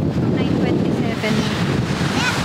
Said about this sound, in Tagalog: lumalakas na din yung alon